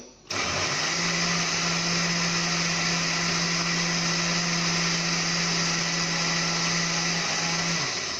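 A blender whirs loudly and steadily for several seconds blending fruit punch, with a constant motor hum, spinning up at the start and winding down near the end.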